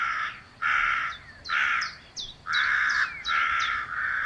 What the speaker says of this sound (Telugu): చికెన్ షాప్ కాడికి వచ్చి కాకి రోజు మొత్తుకుంటున్నదట